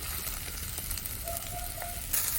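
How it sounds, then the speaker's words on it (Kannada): Thinly sliced onions fry in oil in an iron pan, giving a close, continuous sizzle that swells slightly near the end, with no speech. "ಈರುಳ್ಳಿ ಮಾತ್ರ ಚಂದ ಮಾಡಿ ಫ್ರೈ ಆಗಬೇಕು"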